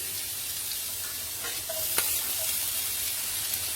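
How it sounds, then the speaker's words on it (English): Garlic and green chilies sizzling in butter in a pan, a steady close hiss with a brief tap or two of stirring. "add some butter and then add some garlic,"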